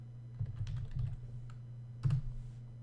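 A computer keyboard clicks in two short bursts of typing while entering a photo caption, close and clear, with a pause between bursts.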